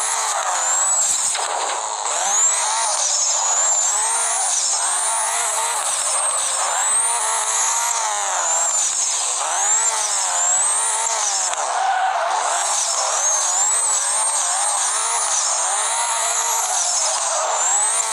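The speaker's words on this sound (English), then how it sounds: "I almost spun out just because I was holding down the throttle. too much." Engine revving and tyres squealing in the video game Harishiya Drifter as a car drifts and skids through twisty turns in the port area of a track, a continuous loud wailing screech with shifting pitch and almost no pauses.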